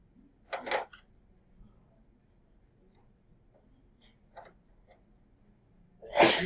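Two sharp sneezes, one early and one at the end, in an otherwise quiet room with faint rustling and a few soft sounds between.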